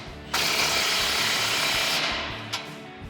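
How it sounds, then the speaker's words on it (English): Ratchet wrench with a 16mm socket tightening a clamp on an aftermarket dual exhaust for a RAM 1500, a steady close clicking rattle running for a couple of seconds, then a short final click. "take that 16mm socket to tighten down our clamp"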